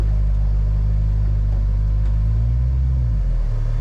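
A Ford F1 truck engine, off the road for 50 years, runs steadily on a test drive as a deep, continuous low rumble, with a slight drop in pitch near the end.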